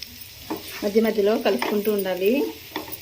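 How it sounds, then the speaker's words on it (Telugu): Bitter gourd pieces coated in chili powder fry over low heat in a pan, a steady hiss with light stirring clinks, partly covered by a voice talking through the middle. "5 to 10 మినిట్స్ వరకు సిమ్లో పెట్టుకొని మంచిగా ఫ్రై చేసుకోవాలి"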